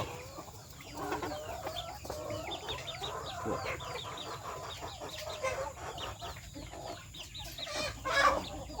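Young roosters in a home flock cluck and chatter continuously during the rainy season, several birds overlapping at moderate distance, with one louder squawk near the end.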